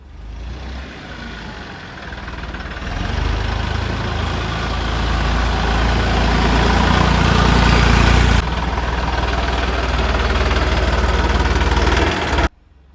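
A loud, steady engine idles close by, its low throb building slightly and holding constant before cutting off abruptly at the end.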